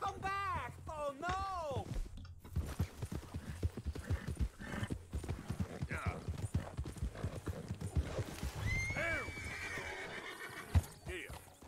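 A horse whinnies and neighs a couple of times with hoofbeats clip-clopping in the video game Red Dead Redemption, over background game music and occasional voices.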